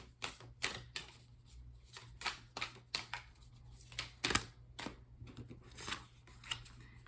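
Rapid riffle shuffling of a Moonology Oracle card deck, with repeated crisp flapping bursts in an uneven rhythm, close and fairly quiet, no voices.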